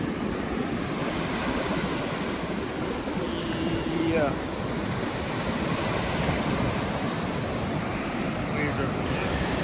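Ocean waves break and wash steadily on a red sand beach, a continuous roaring surf close by with some wind noise, while a voice speaks briefly over it.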